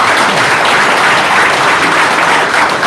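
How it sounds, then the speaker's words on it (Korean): Loud, dense audience applause fills a hall at a rally launching a national coalition against dismantling the Four Major Rivers weirs, sustained evenly throughout with no break and no voices on top. "정종환 국토부 장관님께 다시 한번 감사의 박수를 보내주시기 바랍니다"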